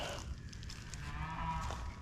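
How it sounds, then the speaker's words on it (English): Cattle mooing at a distance from a rural hunting property, one drawn-out, fairly faint low call carrying over the quiet outdoor background. "Oh, here go the cows."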